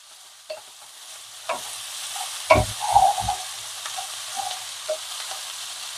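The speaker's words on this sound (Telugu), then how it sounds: "ఇలా హై ఫ్లేమ్ లో పెట్టి చిక్కుడుకాయ చక్కగా ఫ్రై చేసుకోవాలి." Broad beans (chikkudukaya) fry in a pan over a high flame, a soft steady sizzle under a few sharp clanks and scrapes of a spoon stirring against the pan.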